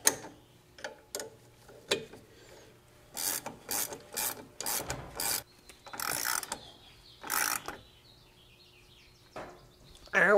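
A wrench tightens the nut on a VW Beetle shock absorber, giving a run of close ratcheting and metal rubbing strokes in quick bursts with short pauses, no talking.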